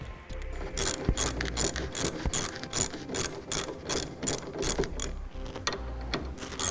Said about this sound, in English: Then we'll take our socket wrench